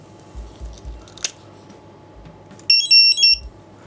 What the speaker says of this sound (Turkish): bip sesini duydum.